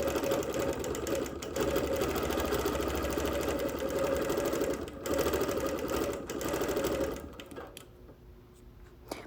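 A sewing machine quilts around the edge of a wool quilt, running in a steady fast close whir for most of the stretch with brief pauses, then stopping and fading near the end.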